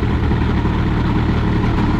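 The engine of an Airsal XT77 aircraft runs at about 10,000 rpm, a loud, steady, close-up drone with a dense low buzzing rumble and no change in pitch, with no voices.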